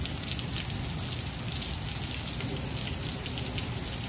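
Rain falls in a constant, moderately soft wash of patter and drips, even and unchanging, with no talking.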